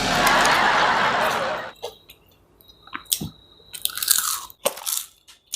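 Close-up biting into a crunchy fried cheese spring roll gives a loud, crackling crunch, then quieter scattered crispy chews and soft mouth clicks.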